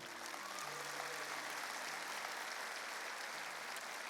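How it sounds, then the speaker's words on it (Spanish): A church congregation applauds at a Spanish-language service, a dense, steady wash of clapping from many hands that carries on without talk. "denle un aplauso al Señor"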